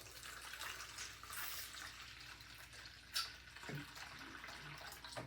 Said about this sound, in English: I'm gonna fill this up probably about halfway with water.